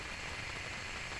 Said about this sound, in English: That was the sound of the turbo pump spooling up on the second stage engine.